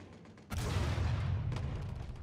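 An explosion in the video game Watch Dogs 2 bursts in suddenly and loudly, then leaves a sustained roaring, rumbling wash that stays loud to the end with no talk over it.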